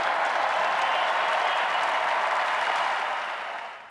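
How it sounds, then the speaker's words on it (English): A political rally audience applauds steadily in a dense, continuous wash of clapping that stays loud for several seconds before fading out at the end. "it is so nice to hear you cheering for what I just said"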